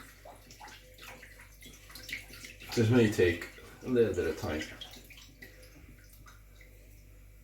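Room-temperature water is poured into a bowl with sea salt and stirred to dissolve it for pizza dough, giving a short burst of splashing and swirling under a person talking.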